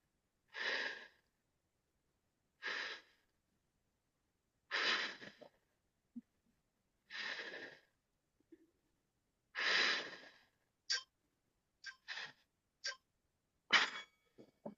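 Heavy, forceful breathing during a HIIT workout: a series of separate puffing exhales spaced a couple of seconds apart, then quicker, shorter breaths near the end, close and fairly quiet.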